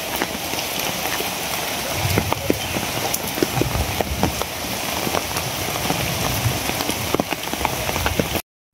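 Heavy rain pours down steadily during a violent thunderstorm over rural fields, a dense, constant hiss with scattered louder drops and splashes, no voices.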